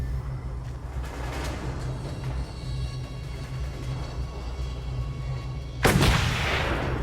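Sniper gunfire in the Mad Max video game: a steady rumbling battle backdrop with faint distant shots, then one loud, sharp crack near the end that rings out over the din.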